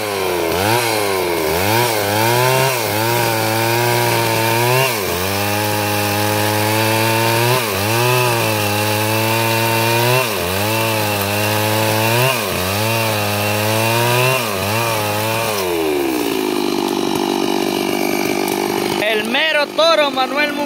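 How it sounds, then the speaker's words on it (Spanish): A chainsaw bucks firewood in Olancho, Honduras, its engine snarling steadily with repeated rising and falling pitch as each cut bites, loud and close, then dropping to a rough idle near the end. "Toro Manuel Munguía va pesado con el motosierra."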